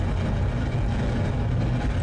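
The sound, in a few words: rocket engines roaring in Kerbal Space Program video game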